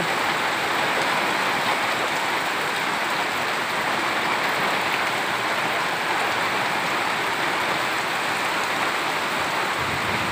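Heavy rain pours steadily into a courtyard during a small storm, a dense, continuous hiss of water on surfaces with runoff flowing, loud and unbroken throughout with no voices.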